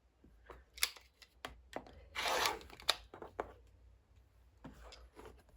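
Scissors cut through quilting fabric for a watermelon block, a string of crisp snips and one longer slicing pass, close and clear with no talk.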